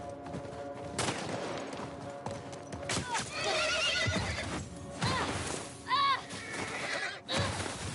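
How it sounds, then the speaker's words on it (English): In The Last of Us video game, a horse neighs sharply and its hooves clip-clop at a gallop, mixed with bursts of gunfire and scattered loud impacts. "The horse! Shoot the fucking horse!"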